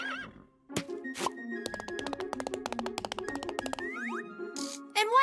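A cartoon horse whinnies in a bright, wavering neigh, then comes a quick run of hollow clip-clop hoofbeats and boing-like effects, and a final short neigh rises at the end, all close and clear with no talk.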